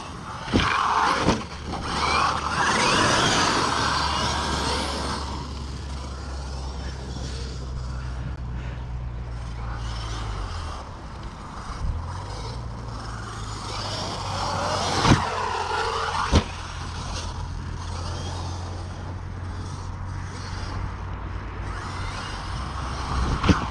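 A remote-controlled car driving and sliding its tyres, a steady electric motor whine that rises and falls, with scrapes and a couple of sharp knocks along the way.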